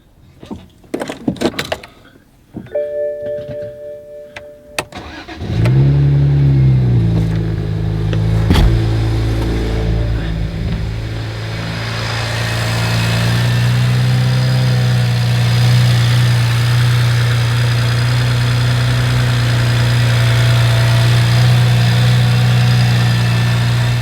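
A 2011 BMW 1M Coupe starts from cold after a few faint clicks, its engine catching with a loud rev flare before settling into a steady, close, rumbling idle that holds alone to the end.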